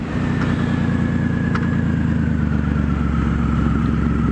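A Triumph Rocket III motorcycle at wide open throttle gives a loud, close, deep engine roar with a steady low rumble and a rising whine, and the rider shifts gears along the way.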